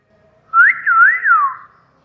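A man on the street gives a loud catcall whistle at passing women, a single rising-falling wolf whistle heard close and alone.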